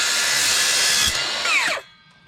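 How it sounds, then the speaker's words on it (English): A circular saw fitted with an old blade cuts through aluminum with a loud, shrill whine up close, then winds down quickly as the cut ends. "I am just going to cut this with a circular saw with an old blade on it"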